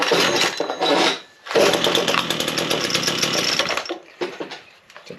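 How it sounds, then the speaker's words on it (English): A Husqvarna 122LK small two-stroke engine with the choke on starts after a short burst, stalls briefly, then revs loudly and steadily for several seconds before dropping to an uneven, sputtering idle. "Let's start her up and see if she runs or what she does do."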